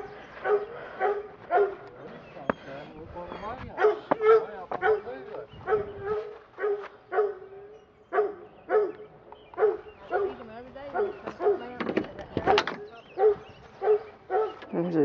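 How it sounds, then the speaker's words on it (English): A dog barks repeatedly in short yapping bursts, fairly close, with some whimpering yips and a person's voice talking in between. "listen to a stupid dog barking"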